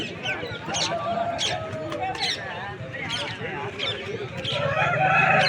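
An Aseel rooster crows at a busy rooster market, its calls ringing out repeatedly among other fowl clucking nearby while people talk over the din.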